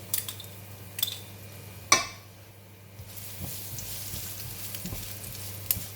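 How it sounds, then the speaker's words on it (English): Garlic frying in one to two tablespoons of hot cooking oil for shrimp and broccoli stir fry, a faint, steady hiss after a sharp clatter and a few light utensil taps, quiet and close. "We're going to fry the garlic until brown and crispy and nice fragrant"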